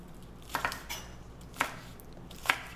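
Three sharp knife strikes coarsely chopping green onions on a cutting board, spaced about a second apart, crisp and close in an otherwise quiet room.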